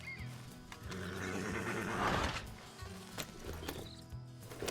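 A horse whinnies loudly at a camp in Red Dead Redemption 2, a long neigh swelling in the middle, followed by softer snorts and a few hoof clops, with no talking.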